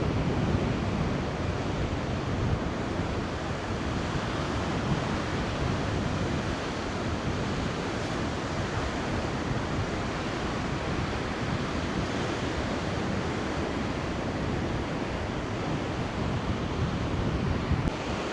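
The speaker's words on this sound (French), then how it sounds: "Elle est très très belle cette plage." Waves on a beach roll and wash continuously in a broad, steady roar mixed with wind buffeting the microphone, with no voices present.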